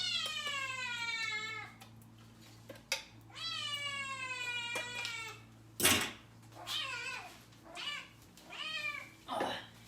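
Pet cat meowing loudly in a kitchen, several long drawn-out cries in a row with short gaps and a clatter of dishes in between, no talk.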